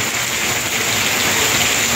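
Heavy typhoon rain pouring down during flooding in Naga City, in a dense, constant hiss, loud and unbroken from start to finish.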